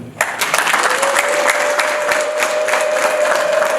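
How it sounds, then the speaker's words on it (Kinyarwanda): A crowd at a Rwandan wedding party applauds the groom's aunt with dense, steady clapping that goes on throughout, loud and close, with a sustained tone over it. "Nyirasenge tumuha amashyi twese abana muri aho mu gitaramo"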